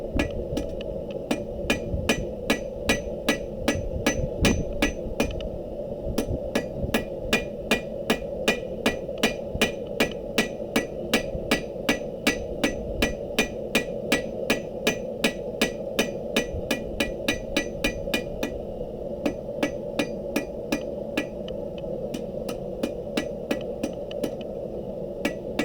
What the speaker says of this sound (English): we're going to go with a slightly smaller hammer this time.